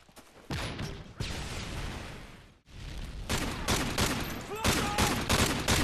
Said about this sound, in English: Stop shooting behind me